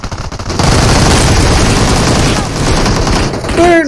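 Dense automatic gunfire from PUBG Mobile, a sustained loud burst of rapid shots with a brief pause near the end, mixed with game noise.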